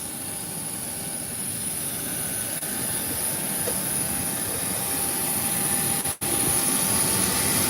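A Boeing 737 private business jet on an outdoor ramp gives off a loud, steady roaring whine of jet engines that holds throughout, broken only by a brief dropout near the end, with no talking.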